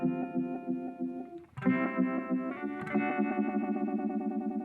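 An electric guitar chord drones through a modulation effect whose pulsing wobble speeds up, with a second chord struck midway, loud and close.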